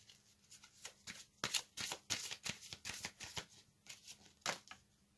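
Tarot cards are shuffled and handled close up, giving a series of quiet crisp riffling and slapping bursts in an uneven rhythm, with no talk.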